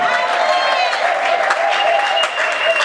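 A church congregation applauds and cheers in a dense, continuous wash of clapping with joyful shouts mixed in, loud and close, filling the whole stretch.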